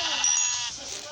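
A sheep in the video game Minecraft bleats once, a short, loud, wavering call close up.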